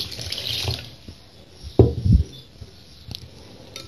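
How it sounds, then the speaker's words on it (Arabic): Warm water poured into a bowl while making traditional homemade bread dough, a short splashing pour followed by a few drips and light patter, fairly close, without talking. "نديرو الماء دافي"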